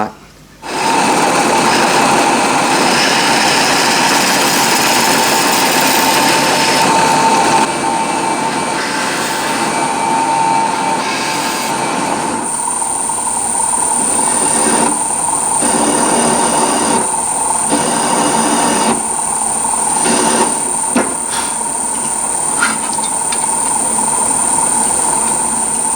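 Machining countersinks into a cast aluminium bracket for a DIY bandsaw table: a steady, loud mechanical whine and grind that runs throughout, with bursts of cutting noise in the latter half.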